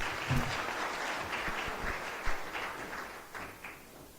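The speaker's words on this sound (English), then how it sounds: "Please welcome him with a big round of applause." Audience applause at a Pune event where industrialists present an industry perspective and Madhya Pradesh's chief minister attends; steady, moderately loud clapping for about four seconds with a few sharper thumps.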